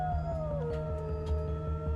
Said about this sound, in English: That is totally a wolf.